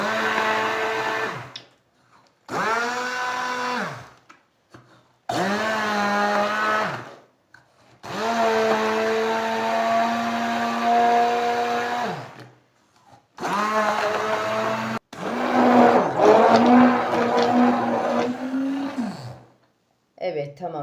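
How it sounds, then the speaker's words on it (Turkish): A kitchen blender purées about 200 grams of watermelon with cake batter ingredients, running in several loud, close bursts of whirring motor whine separated by short pauses. "Şimdi blenderımdan pürüzsüz hale gelinceye kadar geçireceğim bütün malzemelerimi."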